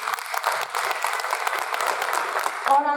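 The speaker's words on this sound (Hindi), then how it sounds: "सभी से गुजारिश करूंगी एक बार सैनिकों के लिए जोरदार तालियां बजाएं" An audience at a community event honouring soldiers breaks into steady, sustained clapping, a dense wash of many hands heard fairly close, with voices mixed in.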